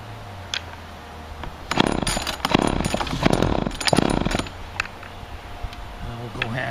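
A Homelite XL2 chainsaw running on half choke revs up in rough, uneven bursts, loud and close, then settles back to a lower idle.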